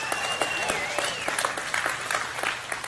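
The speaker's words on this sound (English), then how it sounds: "And I know the reason you're cheering for that" Church congregation applauding and cheering after a sermon line about faith, a dense sustained wash of clapping with whistles and shouts rising above it, loud and close throughout.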